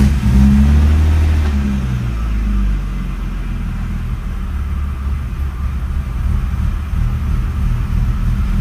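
A BMW E36 engine idles with a rough, uneven rumble, loud and close, and a heavier surge of low throb in the first seconds before it settles into a steady running drone; no one speaks.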